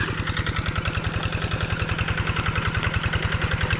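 A tractor engine idles steadily nearby, a rapid, even chugging pulse with no voices over it.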